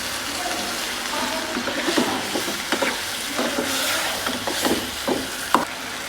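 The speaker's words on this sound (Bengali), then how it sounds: "সামান্য জল দিয়ে কষিয়ে নেব।" Ground chili, cumin and coriander sizzle and fry with a little water in a pan for a prawn curry, with scattered stirring scrapes and soft clinks over a steady hiss, close and fairly loud, with no speech.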